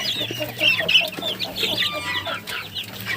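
Chickens and chicks cluck and chirp close by, several birds giving short overlapping calls in an irregular stream over a low steady background hum.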